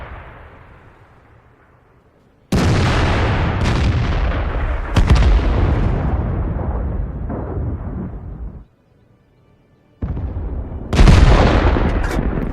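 Booming, heavy gunfire from an M41 HMC howitzer firing HEAT rounds in a video game, with several loud blasts and long rumbling decays separated by short quiet gaps.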